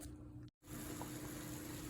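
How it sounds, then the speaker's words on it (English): Mushrooms rinsed under a running kitchen faucet, giving a steady, close splashing stream of water with one brief cutoff partway through. "So right now I'm just going to rinse off these mushrooms."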